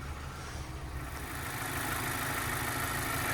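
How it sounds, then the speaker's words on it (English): A 2016 Mazda 3i with 150K miles idles smoothly, giving off a steady, even engine hum with no revving. "the vehicle is currently running, nice and smooth running engine"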